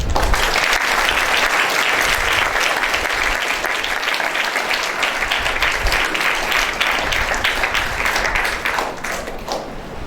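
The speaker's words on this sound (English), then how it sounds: "I think he deserves a clap." Sustained applause from a school assembly audience at a higher secondary school club event, steady dense clapping filling the room at a loud level throughout.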